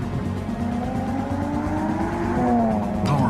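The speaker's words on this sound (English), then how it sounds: "Introducing the new BMW 3 Series, our most advanced 3 yet." Engine of a new BMW 3 Series sports sedan revving loudly and steadily, pitch sweeping upward over a continuous roar that builds toward the end, with no talking.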